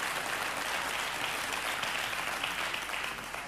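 An audience inside Granada 3 prison in Spain applauds during the opening of a television show, giving sustained, evenly dense clapping that stays steady and near for several seconds with no speech on top.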